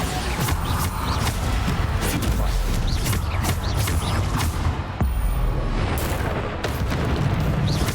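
Bombarda spell explosions in Hogwarts Legacy, a steady barrage of loud booms and crashes layered over dense combat noise, continuous and close throughout.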